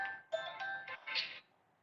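A phone ringtone chimes in a few short melodic bursts, moderately loud and close, during a programming lesson, with no talk over it.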